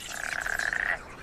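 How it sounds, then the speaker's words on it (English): A frog in a breeding chorus gives a single loud, close croak lasting about a second, a rapid pulsing rattle over a quiet background. "Frogs are breeding too, and they join in the chorus."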